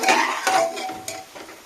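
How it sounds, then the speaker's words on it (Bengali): Stirring khichuri made with dalia after adding two bay leaves, in a pot on a home kitchen stove: a few close scraping and clinking strokes of a utensil against the pot, fairly loud, with no talk. "দুটো তেজপাতা দিয়ে আবারও ভালো করে নেড়ে নিচ্ছি"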